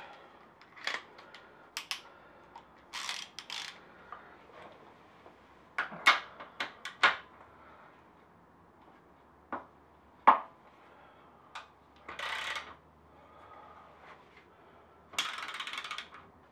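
Ratchet with a 24 mm socket working a swing arm bolt on a Suzuki Bandit motorcycle, heard as short bursts of clicking and metallic ratcheting spread through a quiet garage, some louder, with pauses between.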